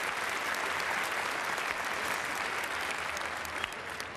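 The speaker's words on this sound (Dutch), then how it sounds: "Glenda en Mirjam, uw applaus." A television variety show audience applauds two performers, a loud, dense and even wash of clapping that holds steady from start to finish before easing slightly at the end.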